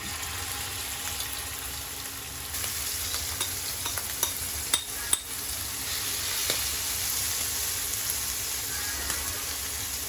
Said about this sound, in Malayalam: ഇനി നമുക്ക് ചെമ്മീൻ വറുത്തെടുക്കാം.